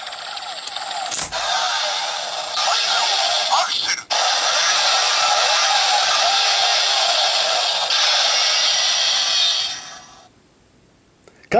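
A Kamen Rider Double DX Accel Driver toy belt with a Cyclone memory inserted plays a loud, steady electronic buzzing sound for about nine seconds after a brief click, then cuts out.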